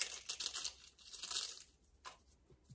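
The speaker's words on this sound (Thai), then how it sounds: "เตาะไข่ลงแล้วก็ขยำเปลือกนะจ้ะ" Eggshell is crushed by hand over garden soil for a homemade egg fertilizer, producing close, dense crinkling and crunching bursts that thin into sparse crackles, with no speech.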